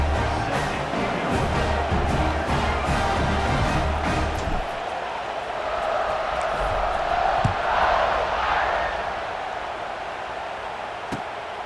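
A stadium crowd cheers in EA College Football 26 on PS5 during a Notre Dame game, a loud broad roar that settles into a steady hum of crowd noise, with an announcer talking over it.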